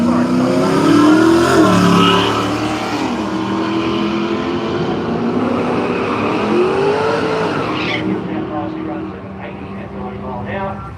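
A Holden Monaro and a V6 Mitsubishi Sigma lining up for a drag race at a raceway: loud engines rumbling and revving nearby with tyre noise, while a commentator talks over them throughout.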